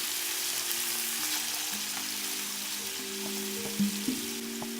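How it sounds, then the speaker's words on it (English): Seasoned chicken fries in a pan, browning on each side: a steady, close sizzle crackles throughout, with a faint hum underneath and a couple of brief clinks near the end. "I'm going to let the chicken cook until it's browned on each side"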